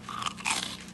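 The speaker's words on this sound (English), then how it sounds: "I just gotta take a bite right now." A close, crisp crunch as someone bites into a hot, crispy slice of reheated leftover pizza, two quick crackling bites heard right at the mouth with no talking.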